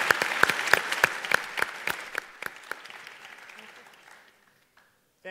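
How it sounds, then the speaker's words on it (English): Audience applause at a talk, a dense, lively patter of many hands that gradually thins and fades to near silence, followed by a brief final sound. "But let's give these guys a round of applause."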